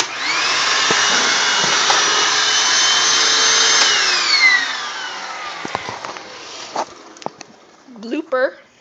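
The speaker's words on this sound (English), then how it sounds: "I'm going to vacuum a corner here." A Hoover Windtunnel self-propelled upright vacuum cleaner runs with a loud steady whine that winds down midway, followed by scattered clunks, handling noises and a brief voice near the end.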